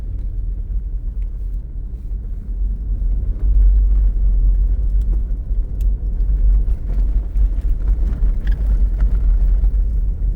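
A car driving through a heavy snowstorm in South Lake Tahoe makes a loud, continuous low road rumble that swells and stays heavy from a few seconds in.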